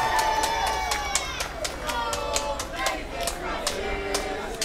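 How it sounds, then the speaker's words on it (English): Wrestling crowd at a Bexleyheath show singing a chant with rhythmic clapping, a steady sung drone from many voices under sharp regular claps, fairly distant in a hall. "The Bexleyheath crowd know exactly what song they want to be singing."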